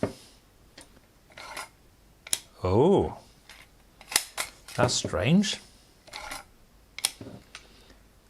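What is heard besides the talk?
shutter of Purma Special gravity camera firing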